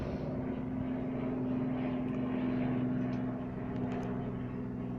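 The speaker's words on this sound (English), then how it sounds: "So now I got distracted by the helicopter" A helicopter drones overhead outdoors, its engine and rotor making a continuous, fairly loud rumble with a steady low hum throughout, and no talking.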